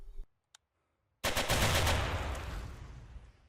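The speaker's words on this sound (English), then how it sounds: "So naturally, I go test fire my gun, only for it to explode in my face." In the S.T.A.L.K.E.R. A.R.E.A. video game, a gun loaded with 8mm Kurtz rounds blows up on test fire: a brief click, then one sudden loud blast that roars and slowly fades.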